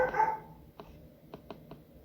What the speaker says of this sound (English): My dogs were a little bit agitated